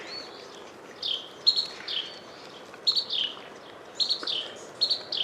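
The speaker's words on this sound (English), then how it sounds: "there's two Carolina wrens here. They're making all kinds of noise." Two Carolina wrens call back and forth outdoors in a wooded birding spot, giving repeated loud, rolling chirps and trills in bursts across the clip over a soft background hiss.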